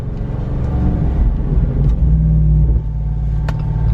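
A 2021 Jeep Wrangler Rubicon 392 with a V8 HEMI rumbles loudly up close, a deep throaty engine roar swelling under acceleration and easing slightly near the end.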